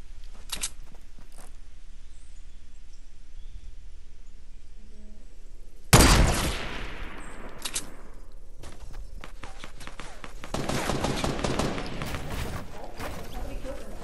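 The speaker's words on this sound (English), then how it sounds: "He's shooting me. I just got shot." Gunfire in the video game Fortnite, a sharp loud burst at mid-clip followed by a decaying tail, then a cluster of rapid shots and pops toward the end over faint ambient game sound.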